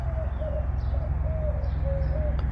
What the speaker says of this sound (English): a dove cooing in between the traffic noise